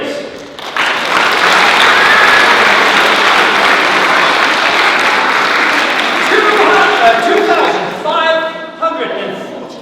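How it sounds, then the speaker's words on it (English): Loud, sustained audience applause and cheering at a live morning show prize announcement, dense clapping filling the whole stretch, with a few whoops and voices rising near the end. "can we have a rousing applause for Walsingham Thompson, please?"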